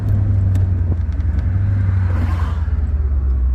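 A 1975 Chevrolet Corvette C3 Stingray engine holds a steady, loud, low rumble from inside the car while accelerating in third gear, with a brief rise in revs near the end.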